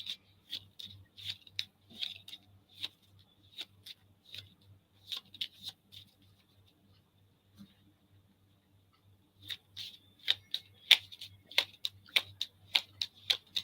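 Tarot cards being shuffled during a live reading, crisp rapid ticking riffles in quick bursts, a quieter pause in the middle, then a louder, denser run of snaps close to the microphone.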